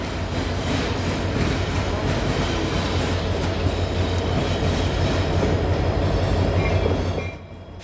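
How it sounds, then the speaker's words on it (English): An eastbound local freight train pulled by two EMD SD70 locomotives rolls past at close range at a rail yard, with a loud, steady rumble and wheel clatter that drops off at the end. "an eastbound local pulled by two EMD SD70s came out of the yard"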